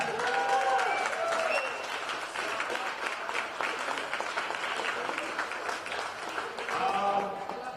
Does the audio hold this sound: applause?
yes